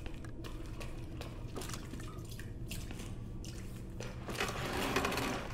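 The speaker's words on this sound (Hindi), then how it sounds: "यहाँ पे बहुत पानी है" Water drips in a dark Resident Evil 2 game environment, with repeated irregular drops falling over a low, constant ambient rumble that swells slightly near the end.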